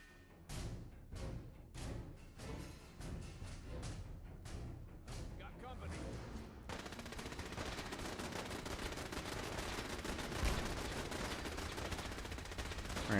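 Rapid gunfire rattles as factions fight each other in Fallout 4, starting as separate sharp shots and then merging into a dense, continuous barrage of automatic fire that runs on steadily.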